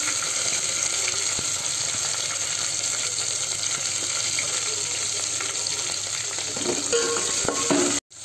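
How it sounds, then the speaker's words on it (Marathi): Chopped onions and tomatoes fry in oil in a pan, a steady, loud, close sizzle that holds for several seconds, with a faint clink near the end. "आता टमॅटो कांदा आपला सगळा भाजलेला आहे"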